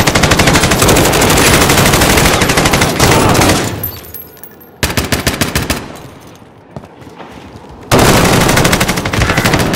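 Sustained automatic gunfire from a Call of Duty: Modern Warfare match, loud rapid bursts that cut off briefly, resume as scattered shots, pause again, then return at full intensity.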